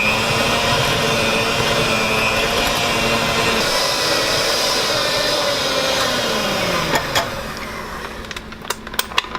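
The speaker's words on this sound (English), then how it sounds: "All of our herbs and our veggies, our dried spices, everything going together. Blend it all up." A close, loud blender whirs steadily while blending herbs, vegetables and dried spices for a cheese spread, then winds down near the end with a few clicks and knocks.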